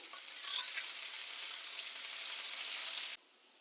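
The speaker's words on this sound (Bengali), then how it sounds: "এবার এর মধ্যে দিয়ে দেবো পেঁয়াজ কুচি। পেঁয়াজটা হালকা করে একটু ভেজে নেব।" Chopped onion sizzles steadily in hot oil, a dense, bright frying hiss that swells early and holds close and loud, with faint stirring, before dropping away abruptly near the end.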